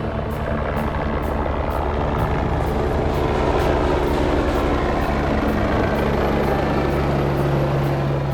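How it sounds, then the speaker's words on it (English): A helicopter landing at a hospital: a loud, steady engine roar with a fast rotor chop, holding close and continuous throughout, no voices. "As quickly as that helicopter gets down"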